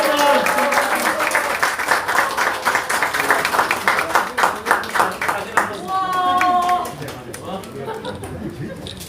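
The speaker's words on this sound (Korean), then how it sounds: "전달할 때 큰 박수 부탁드리겠습니다" A crowd claps warmly as a flower bouquet is handed over at a political event visiting a market in Daegu. The rhythmic applause is close and steady, fades after about six seconds, and talk can be heard alongside it.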